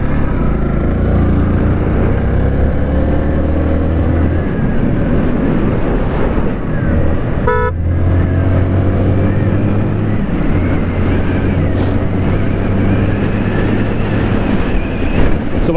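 A motorcycle rides along the road toward Trichy, its engine droning steadily under constant loud wind buffeting the microphone, with the engine pitch shifting a few times as it changes speed.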